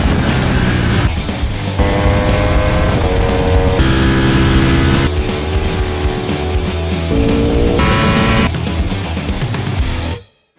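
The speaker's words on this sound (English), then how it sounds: "Hard braking into the last corner." A 2020 Ducati Panigale V4S brakes hard into the final corner of the Bahrain circuit, its engine loud and close with whining tones that step and shift in pitch, before the sound cuts off abruptly.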